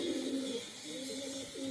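A domestic pigeon coos nearby: a low, warbling call that dips and then swells again over a constant noisy background.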